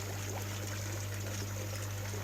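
A garden pond pump pushes water through to an outlet pipe and bubbler, giving a steady, continuous trickling flow with a low constant hum underneath, close and unbroken.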